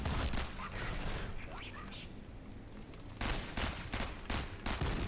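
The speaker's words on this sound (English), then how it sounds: "Oh, it's a burst pistol." Burst pistol fire in the game Out of Action: rapid clustered shots in short bursts, loudest near the start and again in the final two seconds, with quieter game noise between.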